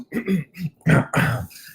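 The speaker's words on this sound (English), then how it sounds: "Let me clear my throat so we're ready." A man clears his throat several times in short, rough bursts, close up, with a final longer rasp.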